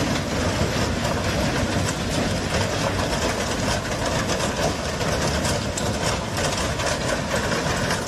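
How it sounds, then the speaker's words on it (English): A train comes to a stop, making a steady, heavy rumble with rolling wheel noise and a constant grinding roar that stays loud and close throughout. "trains need some time to come to a complete stop"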